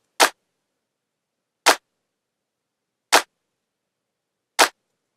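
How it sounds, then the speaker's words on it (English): Four crisp, bright hits of an Ableton stock clap sample with the very low end removed, spaced evenly about one and a half seconds apart, each short and dry with silence between. "Then I have this clap, which I took from the Ableton stock sample library."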